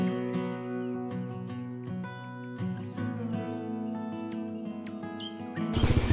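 Birds chirp and call with sharp, rapid tweets over layered steady tones in a rural Thai village, close and busy, ending in a brief burst of broadband noise.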